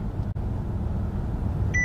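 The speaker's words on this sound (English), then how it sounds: "Warning, beeping, and you see the steering wheel turn." Steady road and engine rumble inside a moving 2018 Mercedes-Benz S-Class, with a short electronic driver-assistance warning beep starting right at the end as the steering wheel turns itself.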